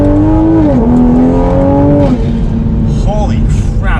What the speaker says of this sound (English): I haven't really done a full floor acceleration in this car just yet